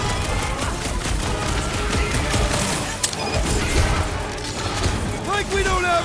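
Sustained blaster gunfire in a superhero action game plays under loud, continuous character shouting, with a sharp crash near the middle and battle noise throughout.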